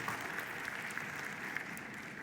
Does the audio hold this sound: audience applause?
yes